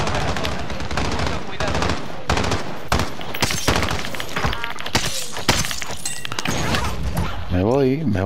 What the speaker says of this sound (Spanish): Ahí sigue el disparo.